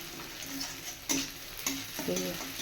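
Something frying in a pan until reddish, giving a soft steady sizzle with a few sharp clicks of a utensil against the pan.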